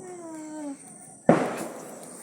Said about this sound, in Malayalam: അവിടേക്ക് അങ്ങനത്തൊക്കെ പടക്കൊക്കെ ചീറിപ്പഞ്ഞ് പൊട്ടിയാട്ടെ